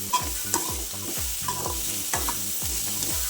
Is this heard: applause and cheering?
no